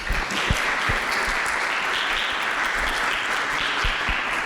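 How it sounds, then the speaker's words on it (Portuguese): Audience at a lecture on Christianity giving a round of applause to welcome the speaker: a continuous wash of many hands clapping at an even, fairly loud level, with a few sharper claps close by. "me ajudem a receber com muito carinho, com uma salva de palmas"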